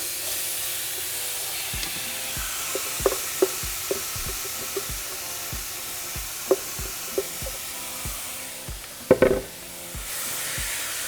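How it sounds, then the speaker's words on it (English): Chicharrón frying in a hot pan for pupusa filling gives a steady broad sizzle, broken by scattered sharp pops and ticks, with a louder crackling burst near the end. "once our pan is hot, we're going to throw in our chicharrón"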